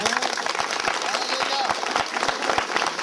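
A church congregation claps together in a dense, steady wash of applause, with a few sharper individual claps standing out and voices mixed in underneath.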